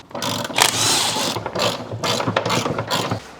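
A socket ratchet clicks in quick, loud bursts while loosening a driveshaft bolt on an engine-swapped BMW E36 Compact. The close-up rasping clatter comes in several short runs with brief pauses between them.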